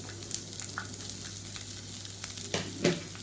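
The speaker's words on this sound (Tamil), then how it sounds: "சேர்த்துட்டு நல்லா வதக்கிக்கலாம்" Sliced big onions sauté in a pan for a Tamil kulambu, with soft sizzling under a few scraping stirs and a louder clatter near the end, close and fairly quiet.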